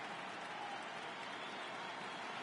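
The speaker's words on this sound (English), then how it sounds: "The crowd is ready to erupt as their guys get set to take the field." A baseball stadium crowd applauds before the home team takes the field, a dense, steady wash of clapping and cheering at a distance with no pauses.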